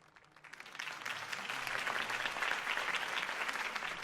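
Crowd applause for a campaign speech in the Batman Telltale video game, a dense wash of clapping that swells quickly after a quiet start and holds steady and loud to the end.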